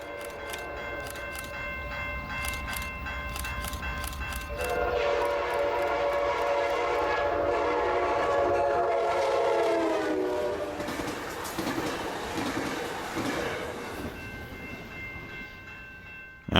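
Coaster commuter train 625, hauled by an F59PHI diesel locomotive, passes a grade crossing near San Diego, California, with a blaring horn, rumbling engine and clattering wheels, while crossing bells ring steadily in the background.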